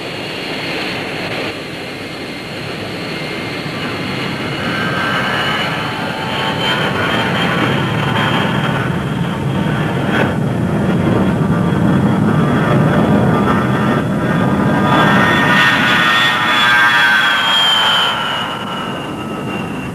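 Several B-52 bombers fly during an air campaign over Iraq and Kuwait, their jet engines sounding as a loud, sustained roar that rises and falls over twenty seconds, with no voices.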